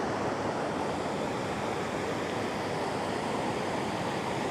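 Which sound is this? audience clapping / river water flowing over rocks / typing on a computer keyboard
river water flowing over rocks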